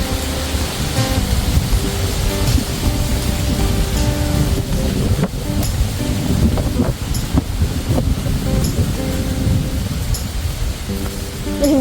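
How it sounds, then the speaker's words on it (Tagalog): Strong wind buffeting during an open-air pickup ride on a mountain road in the rain, a steady loud rushing roar with gusty bumps and engine rumble underneath throughout. "Oh, so windy."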